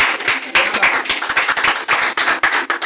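A church congregation clapping together during a sermon, a dense run of close, lively handclaps lasting a few seconds.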